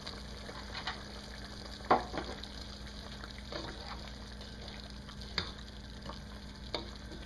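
Pork and tofu stirred in a pan after sugar, salt and pepper go in, a quiet steady sizzle with faint scattered scrapes and taps of the utensil.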